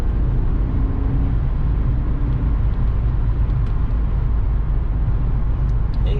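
A 2006 BMW 330i Sport Package accelerating at about half throttle, a loud steady engine drone with heavy low-end road and wind roar that holds constant throughout, heard from inside the car.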